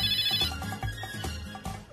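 A phone's electronic ringtone plays a repeating melodic pattern in a Hindi comedy TV serial scene, steady and fairly loud with no talk over it.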